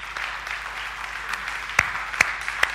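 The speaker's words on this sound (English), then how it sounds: "Let's give the Lord a hand clap today." Congregation at a church service clapping hands in praise, a steady wash of applause with a few sharper, louder claps standing out near the end.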